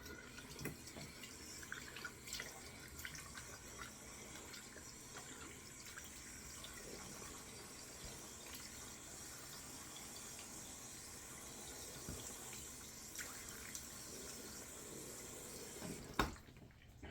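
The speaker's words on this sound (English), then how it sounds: "cold water rinse." Tap water runs steadily into a sink for a cold rinse during a razor head shave, a continuous broadband splashing flow that stays even throughout and ends with a brief knock near the close.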